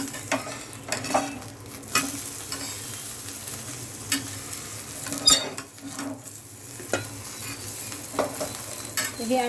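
An egg omelette fries in oil in a pan with a steady low sizzle, punctuated by light scrapes and clinks of a spatula stirring and turning it, close and continuous with no talking.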